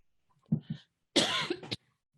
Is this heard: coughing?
yes